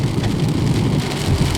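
Steady heavy rain falls on a dreary, sunless day, a dense continuous hiss and patter close by with no pauses and no voices.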